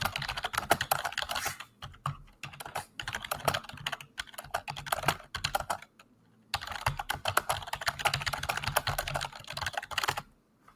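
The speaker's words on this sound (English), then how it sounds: "Can you hear me typing?" Rapid, steady typing on a computer keyboard, close and clear, in two long bursts separated by a short pause, with no voices.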